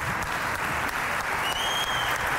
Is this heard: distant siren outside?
no